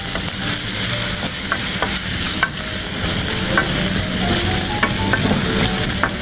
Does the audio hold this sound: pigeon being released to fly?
no